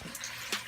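Water poured into a cooking pot while making Cambodian pork belly and eggs, a brief steady splashing stream, soft and close with no talk.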